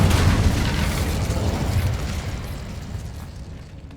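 Incendio fire spell cast in the video game Hogwarts Legacy, a loud whooshing, roaring blast of flame that swells at once and then slowly fades over several seconds, with no talk.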